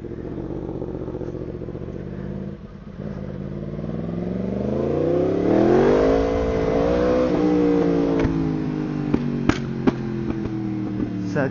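A Yamaha MT-10 motorcycle accelerates hard, its engine note climbing in a long rising sweep through the gears to a loud peak, then settling into a steady drone with a few sharp clicks near the end.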